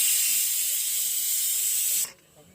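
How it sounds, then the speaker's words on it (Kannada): A pressure cooker at a lakeside campsite vents steam in one loud, steady hiss lasting about two seconds, then cuts off abruptly into near quiet. "ಒಂದು ವಿಜಿಲ್, ಇನ್ನೊಂದು ವಿಜಿಲ್."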